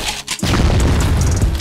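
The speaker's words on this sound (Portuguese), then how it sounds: "Bomba granada." A loud, booming grenade explosion in a video game erupts after a brief moment of game sound and rumbles heavily until the end.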